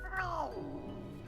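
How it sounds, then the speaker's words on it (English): A cat on a table lets out one short, strained cry that starts as a meow and drops into a throaty growl, close and fairly quiet. "The cat emits what seems to be a half meow,"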